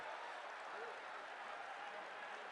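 A large crowd at a political rally applauding steadily, a dense continuous wash of clapping that stays even and loud throughout.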